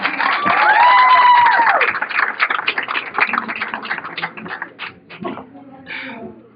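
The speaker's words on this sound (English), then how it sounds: "Let's have a round of applause for the lovely Laura." Wedding guests clapping for the bride at a reception, a loud burst of applause at the start that thins into scattered claps and fades, with a whistle-like tone early on.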